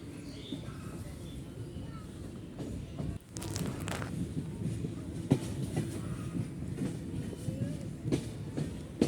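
Interior rumble of a moving train with rhythmic clatter and occasional thumps, heard from inside a carriage, with faint background voices.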